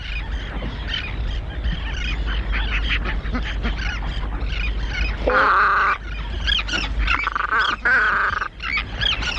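Seagulls call over a tern nesting colony on hot sand, a dense, loud chorus of overlapping squawks and cries, with a few harsh calls standing out close by.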